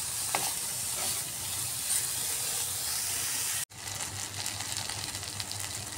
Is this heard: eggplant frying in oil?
yes